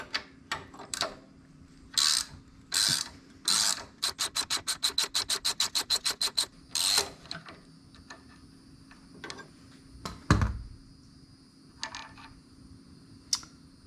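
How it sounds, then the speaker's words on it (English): A 6mm Allen wrench working the gear shift pivot bolt out of an Aprilia Tuareg 660 motorcycle, sharp metallic clicks with a fast run of even ratcheting ticks, then scattered taps and a louder clunk, close and quiet. "we're going to take this gear shift pivot bolt out and replace it with this titanium one"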